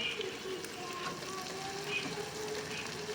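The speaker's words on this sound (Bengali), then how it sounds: "মরিচগুলো ভালোভাবে ভেজে নেব" Steady, soft sizzling of onions and chillies frying in hot oil, a gentle crackle with faint background noise and no talking.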